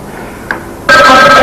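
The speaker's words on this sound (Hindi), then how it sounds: "ऐसे भी क्या खेल कि आपको फोन की बेल नहीं सुनाई दे रही?" A telephone bell bursts into loud, continuous ringing after a faint tone, close and unbroken to the end.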